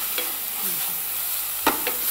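Grated carrot sautéed and stirred in a pan for carrot payasam: a soft frying sizzle under a few quick scraping strokes of a spoon, with one sharper clink near the end.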